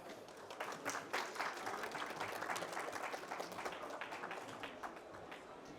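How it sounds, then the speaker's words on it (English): An audience at a panel session on Indigenous Peoples' knowledge gives a sustained round of applause, dense steady clapping heard at moderate distance with no speech. "I just want to give another round of applause"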